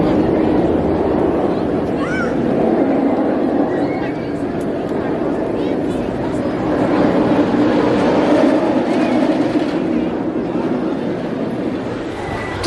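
Back-row ride on Kumba, a B&M roller coaster at Busch Gardens Tampa: a loud, continuous roar of wheels on track with rattling and rushing wind, and faint screams and voices now and then.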